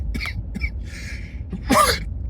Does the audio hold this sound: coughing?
yes